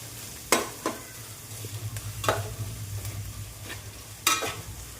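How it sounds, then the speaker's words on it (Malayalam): Sliced onions sautéed in a pan for a Kerala-style chicken stew: a steady low sizzle with a few sharp scraping stirs of a spoon against the pan, close and alone with no voices. "സവാളിൻ്റെ കളറൊക്കെ നന്നായിട്ടൊന്ന് ചേഞ്ച് ആയി കിട്ടുന്ന വരെ ഒന്ന് നന്നായിട്ടൊന്ന് വഴറ്റിയിട്ടെടുക്കണേ"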